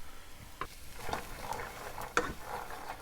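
Soft scraping and sizzling as sweated onions are stirred with celery and carrots in a pan, with irregular utensil clicks and scrapes over a low steady frying hiss, close by.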